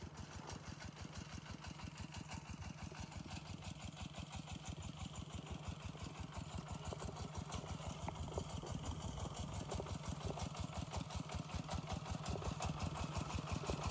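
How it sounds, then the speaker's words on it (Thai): Steady chugging of a small diesel tractor engine plowing a field in Laos, running continuously, rhythmic pulsing thump, growing slightly louder over time, with no voices. "รถไถนาพี่น้องไถ"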